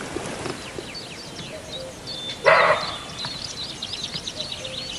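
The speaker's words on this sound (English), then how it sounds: "Sounds like a dog, but that's actually a deer." A wild deer in Bulgaria's southern Rhodope Mountains gives a single sharp, dog-like bark at moderate distance, set against an outdoor background of chirping birds.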